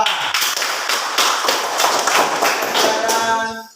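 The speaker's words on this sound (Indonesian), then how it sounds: "tepuk tangan untuk kelompok 2." A class in a classroom claps for a group, with quick, uneven hand claps forming a short burst of applause that fades out at the end.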